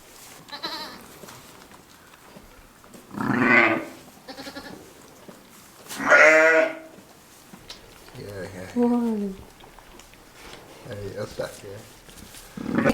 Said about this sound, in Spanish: Esta cuadra grande, que es la de las ovejas